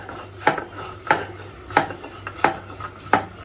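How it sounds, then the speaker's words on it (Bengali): Small mola fish are ground by hand on a stone slab, with six evenly spaced, gritty rubbing strokes repeating about every two-thirds of a second, close and alone. "আমি বেটে নেবো মাছটা।"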